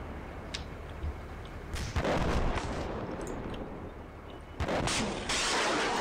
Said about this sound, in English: The scout team is shooting their small arms at the Tigger